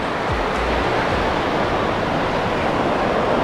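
Sea waves wash onto a turquoise beach at a Cancun hotel, a loud continuous rushing surf with no voices.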